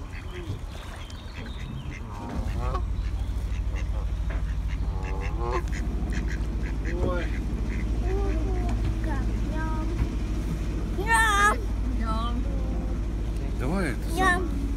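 Ducks quacking near a boat on the water as they are fed bread, repeated calls scattered through the clip over a steady low engine-like hum, with people talking throughout.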